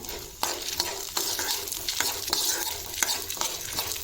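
Dried red chilies, cumin and coriander seeds fry in a pan with a close, continuous sizzle, while a utensil scrapes through them every half second or so.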